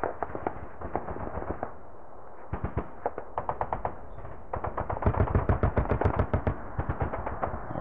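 Bursts of rapid machine-gun fire from the war game Sealion '40 rattle in quick volleys, sharp and fairly close, with short pauses between strings of shots and the densest firing near the end.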